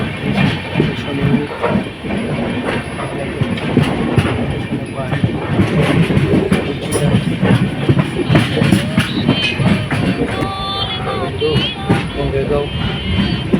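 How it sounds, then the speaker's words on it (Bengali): A train rolls through Assam toward Bongaigaon station with a loud, continuous rumble and rattling clatter of the cars, close and sustained, while people talk over it. "ট্রেন প্রায় পৌঁছে গেছে অবস্থা"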